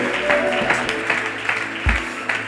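A church congregation claps and cheers during a French-language Sunday service, a dense, steady patter of applause that rises and falls over a low, sustained background tone.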